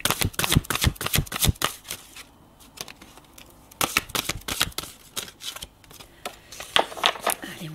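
Tarot cards are shuffled and drawn in quick bursts of crisp flicks and riffles, close and fairly loud, pausing briefly before the handling resumes.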